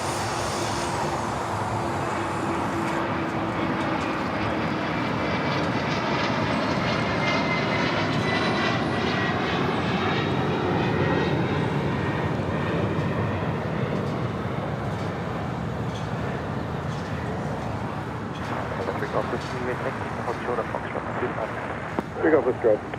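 A jet airliner takes off at LAX, its engine roar loud and sustained, with a rising and sweeping tone as it climbs, under occasional talk nearby.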